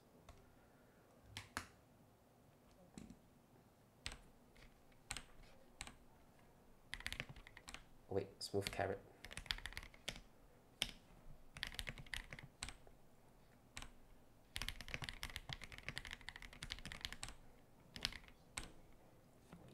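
Bursts of typing on a polycarbonate gasket-mount MW75 mechanical keyboard, quick irregular clacks in clusters with short pauses, close and fairly loud; a few brief words are spoken.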